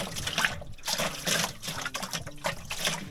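Water runs from an outdoor summer garden shower in a fairly faint, steady splashing trickle that continues throughout with no talk.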